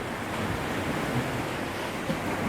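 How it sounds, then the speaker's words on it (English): Ocean surf breaking on the coast at Capurgana in northern Colombia, a steady continuous wash of waves with no gaps, heard evenly from nearby under some wind noise. "we got this beautiful ocean crashing out there"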